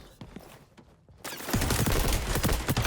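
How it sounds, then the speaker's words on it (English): Rapid gunfire bursts in the XDefiant game, a quiet, sparse stretch of scattered shots and steps giving way to a loud, dense fusillade of close, crackling automatic fire. "That guy was already shooting before he even came around the corner"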